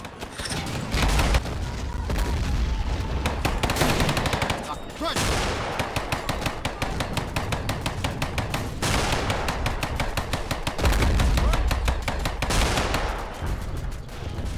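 Sustained gunfire in the World War II strategy game Men of War: Red Tide, with dense rapid machine-gun bursts and booming shots that run almost continuously and loudly, easing briefly around the middle before building again.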